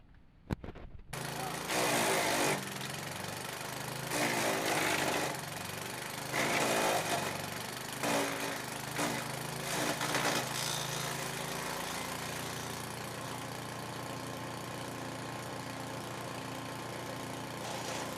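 A small 3.5 horsepower engine drives a wood chipper, roaring loudly under load with surging bursts as material feeds through, then settling into a steady idle hum.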